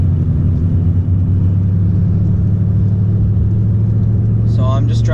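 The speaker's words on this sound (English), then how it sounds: "So I'm just driving regularly as I would, and the drone kicks in." A 2016 Mustang GT cruising on the road sets up a loud, steady low engine drone that holds unbroken throughout, with a brief faint voice near the end.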